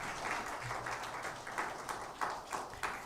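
A church congregation at Sunday worship claps in thanks for the choir, a soft, fairly distant patter of applause that swells slightly with a few sharper claps toward the end.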